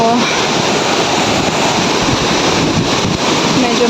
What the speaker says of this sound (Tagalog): Medyo malakas nga lang ang agos ng tubig